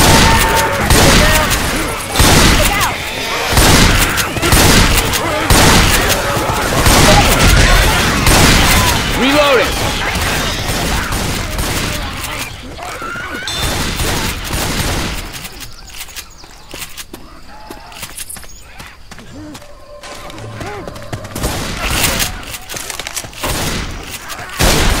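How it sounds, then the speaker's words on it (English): A Molotov cocktail is thrown in the zombie shooter Left 4 Dead 2 amid dense game combat: rapid gunshots, impacts and footsteps crowd the first half before thinning into quieter rumbling, with players talking over it. "Throwing a Molotov!"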